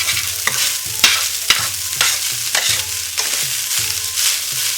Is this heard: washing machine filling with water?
no